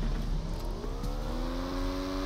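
A burning motorcycle in a video game revs with a steady engine drone whose rising harmonic tones suggest acceleration. It runs loud and continuous, with no talk over it.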